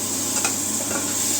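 Potatoes sizzle and crackle as they fry in a pan, with a brief stirring scrape near the middle. The hiss is steady and close, with no talking.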